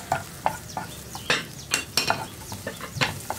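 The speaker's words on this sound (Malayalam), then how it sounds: "ക്യാപ്സിക്കം ഒരു മിനിറ്റ് ഒന്ന് വഴറ്റിയെടുക്കുക." Capsicum is sautéed in a pan with a spatula scraping and clinking against the metal in quick irregular strokes over a soft sizzle, close and alone without talk.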